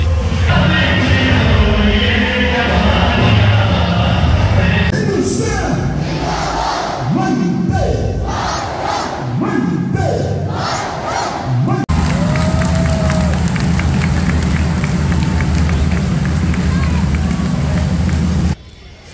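A large Indian crowd at the Wagah border ceremony roars and cheers loudly and continuously, with massed shouts and chanting swelling and surging, mixed with hubbub and some clapping throughout.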